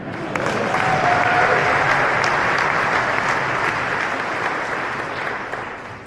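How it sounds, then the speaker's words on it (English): Audience applause fills a keynote hall at a Verkada product and customer event: steady, dense clapping from a large crowd that swells quickly, holds for several seconds, then slowly tapers. "If you wanted to clap, that's okay."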